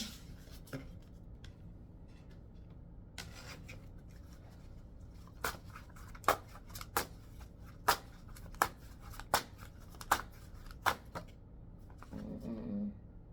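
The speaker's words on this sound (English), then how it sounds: "I don't want y'all to see my horrible shuffling because I can't shuffle" A deck of cards being shuffled gives a run of sharp, evenly spaced riffle snaps and clicks close by, with softer rustling between them and no talking.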